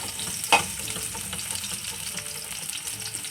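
Onions frying in a pan, a steady low sizzle with one sharp utensil knock early and light intermittent stirring throughout.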